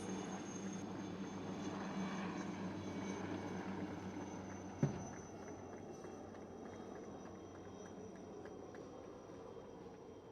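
A Chetak helicopter drones steadily overhead during a Beating Retreat ceremony flypast, a constant engine and rotor roar with one brief sharp click partway through.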